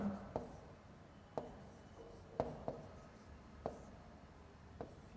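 Chalk or marker taps and strokes on a board during a geography lesson come as about six sharp, separate knocks spaced roughly a second apart, quiet against a faint room background.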